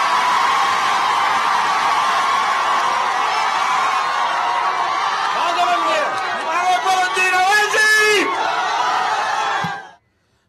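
Frenzied crowd chanting slogans in an agitated political protest, dense massed voices roaring continuously and loudly, with rhythmic shouted chants rising toward the end before cutting off.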